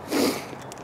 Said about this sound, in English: Walks three steps, stops and sniffs.